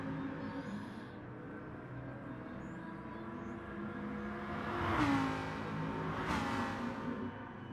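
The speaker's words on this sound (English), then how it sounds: "we've got cars backwards already doing donuts" Sim racing cars at Interlagos or the Nurburgring GP circuit in a multiplayer race, engines humming at a distance, then two sharp revving surges about a second apart near the end.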